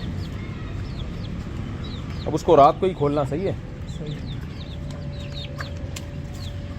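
A rooster clucks and calls in a backyard poultry enclosure, with short, repeated chirpy clucks throughout and a louder burst of calls in the middle, while someone talks nearby.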